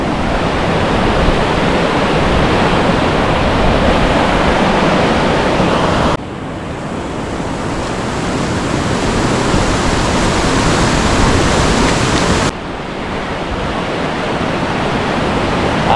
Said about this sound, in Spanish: Alucinante, el río Guadalquivir. Mirad qué fuerza lleva.